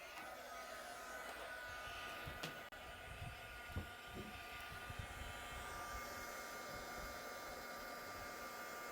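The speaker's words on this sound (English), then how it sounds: "I'm gonna heat set all those layers of ink" A heat tool blows steadily to set layered wet ink on a craft project, a continuous close airy roar with a tonal whine running for several seconds, a few light knocks and handling clicks underneath.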